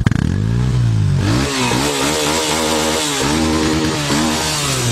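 A Crossfire motorcycle with about 12,694 km on it is started and revved, its engine rising in pitch through several sharp throttle blips before settling into a loud, steady idle close by.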